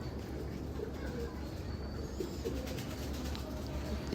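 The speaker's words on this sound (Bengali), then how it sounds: "এটা হলো টাইগার ডাবালা কবুতর খুবই কোয়ালিটিফুল কবুতর" Tiger Dabala pigeons cooing softly in a loft, with low repeated coos over a constant background hum and a few faint chirps.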